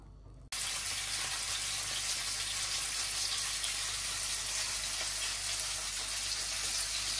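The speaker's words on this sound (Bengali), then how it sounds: "এখন এই যে ভেন্ডিটা ভেজে নিলাম, এখন মাছটা ভাজবো" Fish fries in hot oil in a home kitchen, a loud, steady hiss of sizzling that starts suddenly after a brief quiet moment and continues unbroken, with no one talking.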